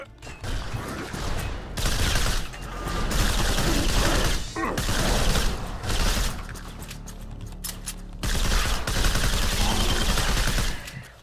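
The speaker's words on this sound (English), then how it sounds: "Machine gun's kind of boring" Sustained machine-gun fire in the shooter STRAFE, loud and dense rapid bursts with a few brief gaps, heavy booming low end, no talking.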